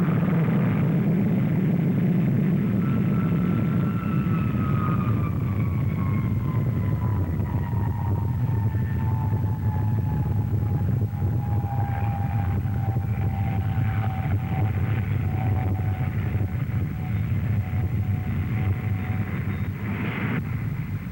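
An Avro Vulcan bomber with Olympus jet engines climbs steeply at the Farnborough air show, giving a loud, continuous roar with a slowly falling whine over a heavy low rumble that holds steady throughout.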